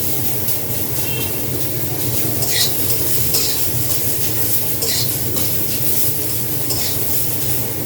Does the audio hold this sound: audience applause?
no